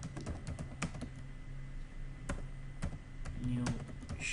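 Keys on a computer keyboard tapped while a message is entered in an Excel macro, with scattered distinct clicks over a steady background hum and a brief low voice near the end.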